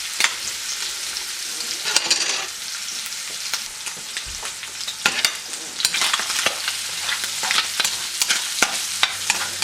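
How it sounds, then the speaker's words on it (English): Chunks of Spam browning in a hot pan for kimchi fried rice, a steady loud sizzle with frequent sharp pops and crackles, close up and continuous throughout. "It's sizzling and it popped when I threw it in there"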